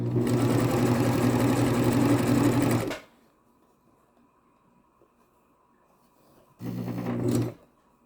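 A sewing machine stitching a seam runs in a steady close whir for about three seconds, stops to near silence, then runs again in a shorter burst.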